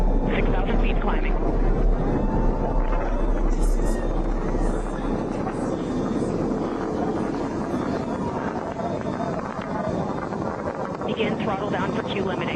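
A Blue Origin rocket engine roars during the launch ascent of an all-female celebrity crew, a dense, steady rumbling blast that stays loud and continuous and eases only slightly later on.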